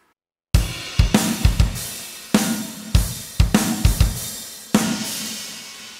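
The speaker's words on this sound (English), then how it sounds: "what I've chosen is the Post-Metal Broken Oars preset, which sounds like this on its own." Post-Metal Broken Oars drum preset from EZDrummer, heavy metal drum kit playing a sparse pattern of loud kick and snare hits with crashing cymbals, each hit ringing out, after a brief silence at the start.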